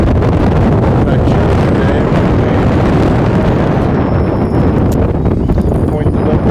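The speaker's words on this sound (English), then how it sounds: "The wind is blowing pretty strong." Strong wind blows across a fishing boat, a loud, steady broadband rush that buffets the microphone without pause.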